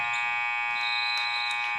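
Electronic buzzer at a high school basketball game, York Suburban vs Bishop McDevitt, marking the end of the first half: one steady, loud, sustained tone filling the gym, lasting almost two seconds.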